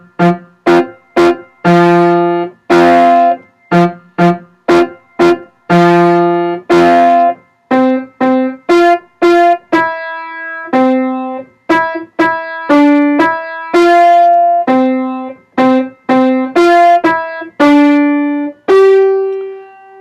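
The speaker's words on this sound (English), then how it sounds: "This is the mixed up song. I'm going to play it through pretty slowly." A slow, simple piano practice tune for a beginner, played one clear note at a time with the right hand in a five-finger position from middle C, each note struck and held with short gaps, close and solo.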